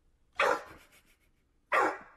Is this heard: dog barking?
yes